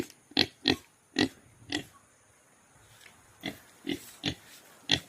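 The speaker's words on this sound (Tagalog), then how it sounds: "Ayan, mga baboy nila." Pigs at a rural family home beside a river, grunting and snorting in short separate bursts, about eight or nine in all, clustered at the start and again toward the end, close and fairly clear with no voices.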